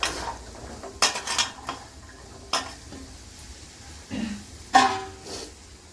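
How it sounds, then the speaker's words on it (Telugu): Green chillies fry in a pan with a low sizzle, broken by a few sharp clinks and scrapes of a utensil against the metal. "పచ్చిమిరపకాయలు అన్నీ వేయించుకొని"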